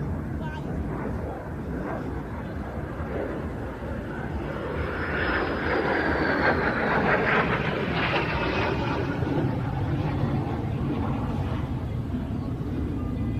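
Classic jet aircraft engine roaring during an airshow display at an evening flight festival, a loud distant rumble that swells midway, with a commentator talking throughout.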